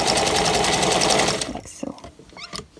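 A sewing machine stitches a fabric dust jacket for a journal, running fast and steady for about a second and a half and backstitching to lock the seam, then stops, leaving scattered light handling noises.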